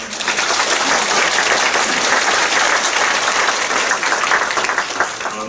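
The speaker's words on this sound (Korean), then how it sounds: "박수" A congregation applauds at a church thanksgiving service for a bishop's installation: dense, steady clapping from many hands fills the room at full volume for several seconds without a break.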